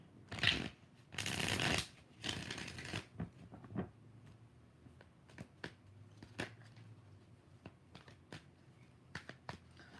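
Tarot cards being shuffled by hand, a few loud riffling bursts early on followed by sparse soft card taps and flicks in a quiet room.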